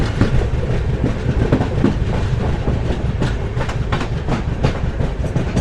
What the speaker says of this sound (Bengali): আর এই 81 কিলোমিটারের ননস্টপ ডিস্টেন্স আমাদের এই ট্রেন কভার করবে 1 ঘন্টা 4 মিনিটে